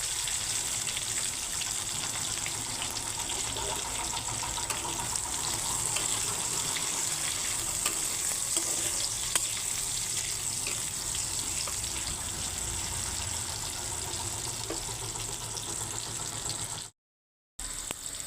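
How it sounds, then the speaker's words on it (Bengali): Onion and capsicum fry together in a pan, giving a continuous, hissing, watery sizzle that holds steady for a long stretch before a brief cut-out near the end. "এখন ক্যাপসিকামগুলো ভেজে নেব পেঁয়াজ আর ক্যাপসিকাম একসঙ্গে ভেজে নিচ্ছি"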